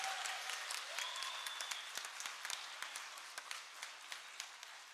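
An audience at a Tamil pattimandram debate during the Chithirai Thiruvizha festival applauds: sustained, even clapping from many hands that keeps up throughout and is heard on its own, without speech.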